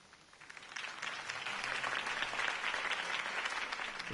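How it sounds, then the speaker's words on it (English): A crowd applauds after a campaign speech in a Batman video game, the clapping building from a few scattered claps into a dense, sustained ovation. "could have heard that applause"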